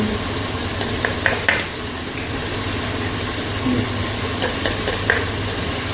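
Mutton pieces with salt, turmeric and red chilli are stirred in a hot pan, a continuous close sizzle with a few scraping spoon strokes and faint clinks.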